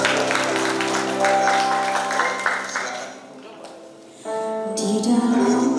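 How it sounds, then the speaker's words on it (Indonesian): Guests at a wedding ceremony clap along under loud music with sustained tones, the clapping fading out midway as the music drops briefly and then resumes with a singing voice. "berikan tepuk tangan yang meriah"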